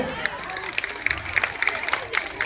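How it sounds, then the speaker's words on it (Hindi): Audience applause at a farewell ceremony held at a girls' inter college in Kaushambi, a dense, steady patter of many hands clapping with crowd murmur underneath. "एक तालियां इनके लिए बजाओ"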